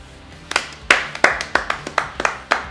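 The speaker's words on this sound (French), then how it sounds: "Mais on peut l'applaudir peut-être." A small group claps for a film crew's assistant, about a dozen sharp, separate claps in an uneven rhythm, close and fairly loud, with no talking over them.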